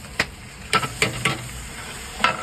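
Ginger garlic paste frying with onions in a large pot for village-style kandoori mutton, a steady low sizzle broken by several sharp scraping stirs of a spoon, close and loud with no talk.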